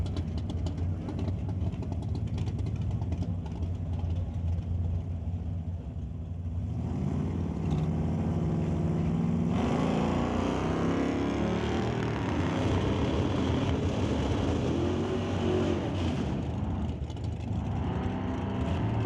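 Chevelle and Buick drag racing cars launching down a drag strip, engines roaring and building in a loud sustained rumble that swells midway and holds, heard from the track side without talk.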